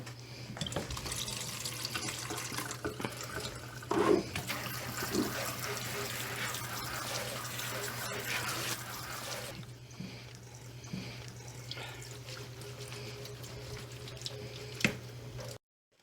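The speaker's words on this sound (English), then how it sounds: "He has drained the shells, and you can rinse them off." Steady running water from a kitchen tap rinsing drained pasta shells in a sink, a continuous hiss with a low hum underneath, softening partway through, then stopping abruptly at the end.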